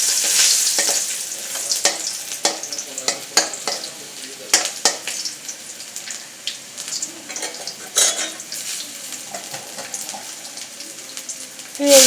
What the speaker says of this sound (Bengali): মরিচগুলো ভাজা হয়ে গেলে আমি রসুন দিয়ে দিব।